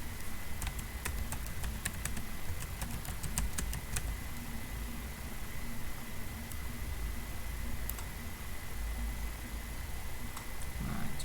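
Computer keyboard keys click sharply in scattered taps and short clusters over a steady background hiss, with a pause between bursts of typing during a copy-and-paste.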